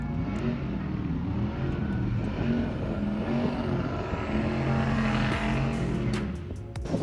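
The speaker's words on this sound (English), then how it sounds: "Holy shit, that's a Mustang." A Ford Mustang race car at the Freedom Factory runs nearby, a steady low engine rumble with a rising whine near the end, fairly quiet and heard alone.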